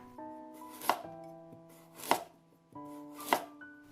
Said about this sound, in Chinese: 再切成条。 最后给它切成胡萝卜丁。